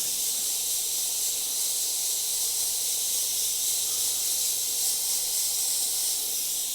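An airbrush spraying paint onto a T-shirt hisses evenly and unbroken throughout, a soft, constant spray of air with no other sounds.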